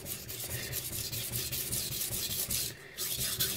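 A knife blade scrapes steadily across the coarse 240 grit side of a Chinese whetstone in quick, repeated gritty strokes, close and fairly quiet.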